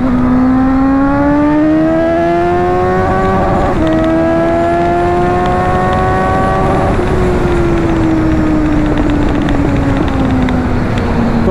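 A Suzuki GSX-S750 motorcycle revs loudly and close, its engine pitch rising through a couple of gear changes with short dips at each shift, then easing off under steady wind noise.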